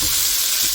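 About a pound of 80-20 ground beef sizzles loudly in a hot pan of bacon grease, a dense, steady frying hiss with no talk.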